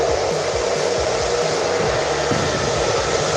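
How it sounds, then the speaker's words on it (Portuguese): A handheld hair dryer running on low speed with high heat while brushing hair, a steady continuous whoosh of airflow with motor hum, loud and close throughout. "vem com o secador na velocidade baixa, temperatura alta"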